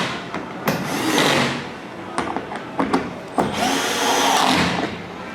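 A small electric screwdriver, clutch set very light, whirs in short bursts while tightening bolts on a RAM truck's rear fender liner near the shock, with clicks and handling knocks between runs.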